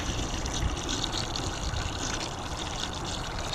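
Water pours steadily from a hose or can into a compost heap on an allotment, making a continuous, close, hissing splash with no pauses.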